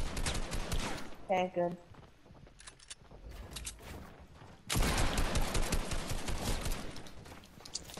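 Bursts of gunfire in an online squad shooter game, with a loud sustained volley in the second half and shorter shots earlier, under brief player talk.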